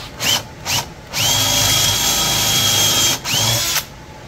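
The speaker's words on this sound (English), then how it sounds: "All I have to do is line this up with that hole down that's down there and then re-drill it." A cordless drill gives two quick trigger bursts, then a longer steady spin re-drilling a dowel hole in a wooden hall tree, and a final short burst, all close by.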